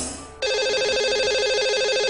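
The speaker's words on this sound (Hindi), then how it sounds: "तो इन्हें लगाते हैं इन्हें कॉल और करते हैं बात" A telephone rings out on a call to a radio show caller: after a short quiet moment, a loud warbling electronic ringtone starts and repeats steadily on its own.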